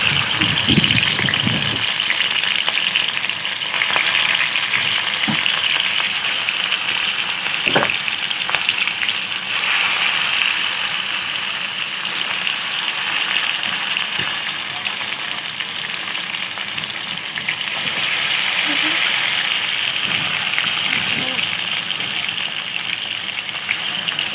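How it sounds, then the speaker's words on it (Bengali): Rohu fish frying in hot oil in a wok produces a loud, continuous hiss with scattered spattering pops and a few sharper crackles, close and unbroken for over twenty seconds, with no speech. "তেলটি ভালো করে গরম করে নিতে হবে তারপরে দিয়ে দিচ্ছি মাছ"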